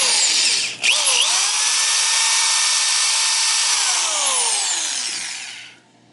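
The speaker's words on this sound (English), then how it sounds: "what I like about this spin flare is you don't have to ream anything" A spin flare tool turning against the end of an oil line to form a flare, a steady high-pitched whirring grind that holds nearly the whole time with a short dip early on before winding down.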